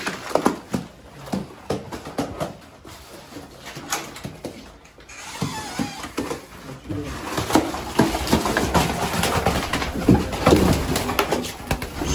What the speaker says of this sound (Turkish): bu güvercinlerimizi getirdik